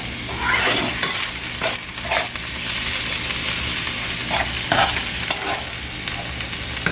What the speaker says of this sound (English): so we just sauteing the crab meat